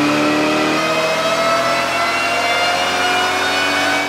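A 2003 Mustang Cobra runs hard on a chassis dyno, giving a loud, sustained high-rpm roar whose pitch shifts early on and then holds steady to the end.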